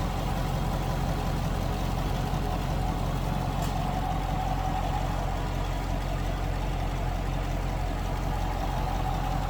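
A 6.2-liter V8 in a 2019 Chevrolet Camaro 2SS convertible idles at a steady, unmodified low rumble, close and continuous with no revving throughout.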